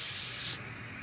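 Onion dropped into coconut milk heating in a pan gives a short, bright hiss that cuts off after about half a second, leaving a faint low bubbling.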